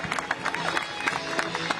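Brief burst of crowd applause and cheering for Allison Esposito at an outdoor political rally in Queens, dense clapping from a sizable audience with scattered shouts mixed in.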